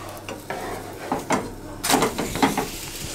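Crepes cook in a pan on low heat with a steady close sizzle, broken by a few scraping and stirring touches of a utensil against the pan, and no voices.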